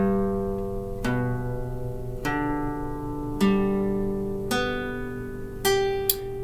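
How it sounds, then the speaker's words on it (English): Guitar strings plucked one at a time in an unhurried sequence, each note ringing out clearly and sustaining as the next one is added. "one way that we can check to make sure the chords are coming out correctly is to strum one string at a time"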